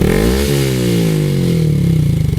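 A Honda Grom motorcycle with an Akrapovic exhaust revs up close and loud, its engine pitch climbing quickly and then easing in a short burst, with no talking.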